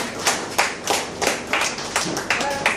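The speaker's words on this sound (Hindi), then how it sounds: "एक बार तालियां जोरदार दोस्ती के लिए" Audience clapping at a school friends' opening ceremony, a bright burst of hand claps swelling in uneven waves for about three seconds with faint voices underneath.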